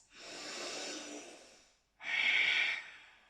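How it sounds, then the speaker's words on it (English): Two deep breaths during a yoga warm-up: a long, airy exhale, a brief pause, then a second, sharper and louder breath with a hissing edge, close to the mic with no talk. "5 deep breaths."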